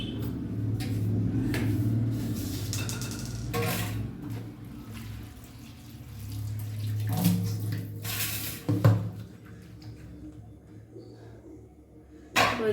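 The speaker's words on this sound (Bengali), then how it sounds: "যে বালতিগুলোকে পরিষ্কার করতে হবে, বেশ কিছুদিন হচ্ছে পরিষ্কার করা হচ্ছে না আবারও।" Buckets being washed in a home, with water splashing and sloshing, plus intermittent knocks and clatters of the plastic as they are handled, fairly close and moderate in level.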